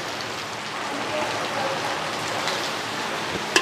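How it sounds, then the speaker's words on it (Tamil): Heavy rain pours steadily during a storm at a house, a dense, continuous hiss of drops on surfaces that stays loud and even throughout, with one sharper splash or knock near the end. "ஆனால் செம்ம மழை வந்துகிட்டே இருக்குது, நிற்கவே இல்லை நான் ஸ்டாப்."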